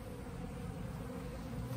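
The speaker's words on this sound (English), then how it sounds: "see all the bees flying around" Honeybees from a newly settled swarm fly around their hive box, making a steady, continuous buzzing drone that stays fairly faint and even, with no voices.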